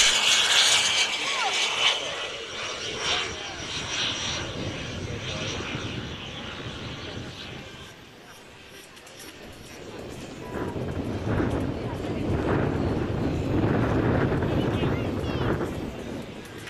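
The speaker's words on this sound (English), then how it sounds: "There were many sport jets flown" A model sport jet roars through a pass at an outdoor model airshow, its loud turbine rush fading in the middle and then building again, with voices talking over it.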